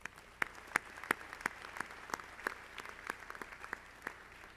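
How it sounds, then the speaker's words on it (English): A graduation ceremony audience at the University of Maryland School of Medicine applauds, heard as a quiet run of about a dozen sharp, evenly spaced claps over a faint hall background. "Can we please give them a big round of applause?"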